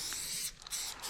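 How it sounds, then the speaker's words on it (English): Aerosol spray paint can hissing out in steady bursts while painting graffiti at an abandoned site, a close continuous spray with a brief pause midway, with no talking. "So I use always the lightest spray can first"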